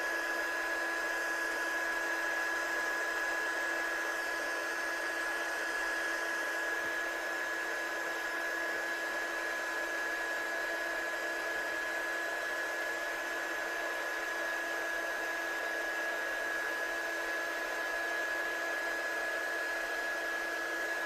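A heat gun blows steadily for heat embossing a handmade card, a constant, even whirring hiss with a fixed whine that never changes for about twenty seconds, with no talking.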